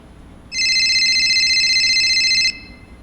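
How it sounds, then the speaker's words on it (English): A telephone rings once in a radio mystery drama, a single steady electronic trill lasting about two seconds, loud and close, starting and stopping cleanly against a quiet background. "And just when I was ready to find out, my phone rang."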